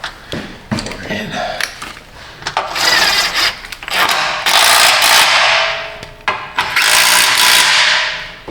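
Ratchet wrench tightening a bolt on a Dodge Journey's leaking power steering return hose: loud, close bursts of rapid clicking in repeated strokes, with someone talking in between.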